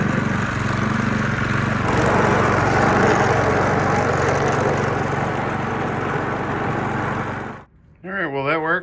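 A Craftsman 24-inch snow blower engine runs loud and steady, a dense rough roar that cuts off abruptly near the end, after which a person speaks.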